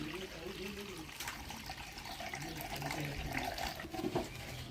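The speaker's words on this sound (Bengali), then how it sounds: "তো চলে গেলো বন্ধুগণ এর মধ্যে জল" Water is poured into a wok while making suji kakhra pitha, a quiet, continuous trickle and splash with faint voices talking in the background.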